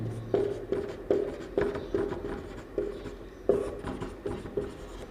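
A pen writes on paper or a board during a Class 11 mathematics lesson on sets, giving a run of close, scratchy strokes in a steady rhythm with short pauses between words. No voice is heard.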